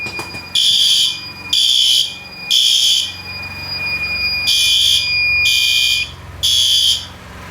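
A fire alarm horn strobe sounds during a routine system test, blaring loud repeated bursts of harsh buzzing, each about a second long with short gaps, along with a steady high electronic whine.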